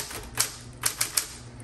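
A 1970s Smith Corona Electra 110 electric typewriter strikes a few sharp, close keystrokes in an uneven rhythm over a low motor hum.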